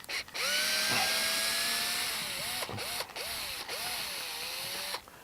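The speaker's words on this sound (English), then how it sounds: "using the drill in order to take off those screws" A power drill whines at rising and falling pitch in several short runs, stopping and restarting between screws as it removes them from a patio security light bracket, close and loud.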